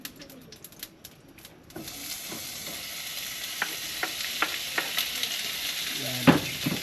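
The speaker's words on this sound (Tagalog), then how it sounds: "luto muna natin yung itong taba. Pakupsan na natin muna para dito tayo magkuha ng" Pork fat fries in a pan to render oil, a steady close sizzle that grows louder after a quiet start, broken by scattered sharp pops and crackles.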